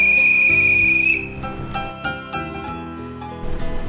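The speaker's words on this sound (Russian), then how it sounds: "подать звуковой сигнал свистком" A ship's whistle sounded as a safety signal aboard a passenger motor ship gives one loud, steady high tone for just over a second, then cuts off into a busier mix of background sound.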